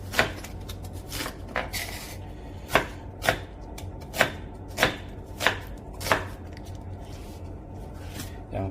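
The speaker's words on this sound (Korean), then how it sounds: "양파는 채를 썰고요" A kitchen knife slices an onion into thin strips on a cutting board, giving a series of crisp, evenly spaced chops that come close and distinct, about one every half second.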